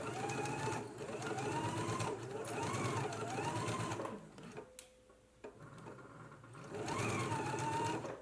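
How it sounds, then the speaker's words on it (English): Bursts of sewing machine stitching along a curved girls' dress seam at a 5/8 inch allowance, a close rhythmic whir that pauses briefly in the middle before starting again. "Now let's go ahead and stitch using a 5/8 of an inch seam allowance."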